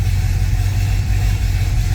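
Turbocharged car engine idling on a dyno, a loud, steady low rumble with an even hum, close by and without talk.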